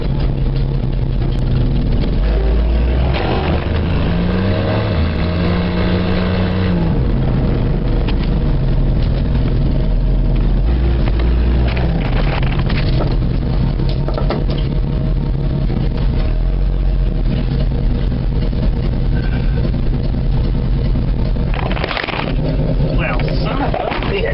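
A 1975 Dodge D100 truck engine running close by, a loud steady idle with rough low rumble and shifting revs, while a person talks over it at times.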